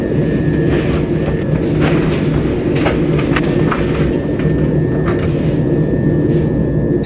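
Steady, loud rumble of a moving train heard from inside the carriage, with continuous low-frequency roar, faint rhythmic clicks of the wheels on rail joints and no talking.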